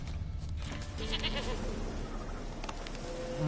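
A goat bleats in a video game, drawn-out wavering cries over a steady ambient bed, fairly close, without talk.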